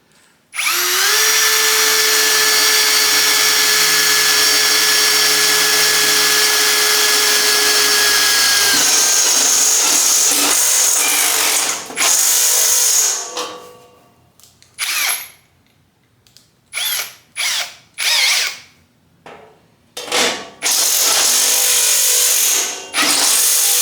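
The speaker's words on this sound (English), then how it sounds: "Then we'll get my Christmas tree bit and we'll just drill a hole." A power drill with a step bit whines loudly through a long continuous run, then stops and restarts in several short bursts before a final sustained spin.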